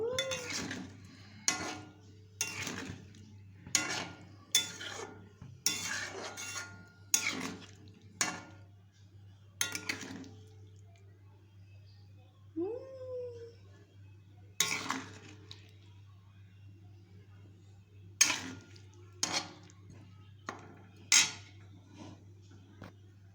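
Curry being stirred and sautéed in a pot, a spoon clanking and scraping against the metal in irregular bursts of strokes with quiet pauses between them, close and clear with no talking.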